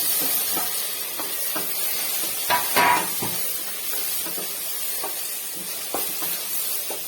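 Chopped tomato hisses and sizzles as it fries with onions in a pan, a steady close steam-like hiss punctuated by a few sharp clatters and bursts of louder sizzling.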